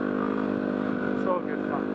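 A Yamaha WR250R dirt bike revs hard as it takes off in loose sand, its engine loud and close for a brief burst while someone talks over it.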